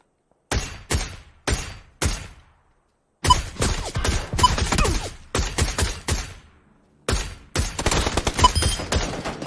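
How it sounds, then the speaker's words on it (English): Gunfire in PUBG on the Miramar map during a duos match: rapid bursts of shots in clusters, several single cracks then dense sustained volleys with brief gaps, loud and close. "Somebody's shooting at us."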